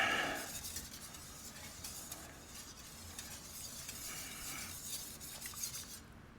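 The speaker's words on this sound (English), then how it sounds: "I need to stir that." A spoon scrapes and stirs gravy in a pan, a steady soft rubbing and swishing with a faint sizzle of simmering underneath, close and continuous with no talk.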